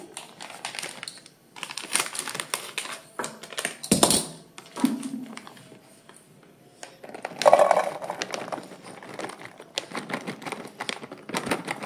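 Sweet corn is cut with a knife, producing a rapid series of close, crisp taps and clicks in uneven clusters, with a few louder thuds between them.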